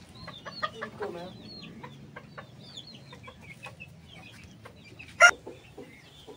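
Chicks and chickens in a backyard bird setup, with soft scattered peeps and clucks close by, a faint low murmur underneath and one sharp louder call partway through.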